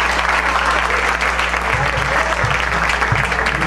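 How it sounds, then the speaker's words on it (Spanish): Audience applause for a newly formed Latin jazz group at a live show, steady dense clapping filling the whole stretch at close range, with a low steady hum underneath and no voices standing out. "Vamos a darle un aplauso."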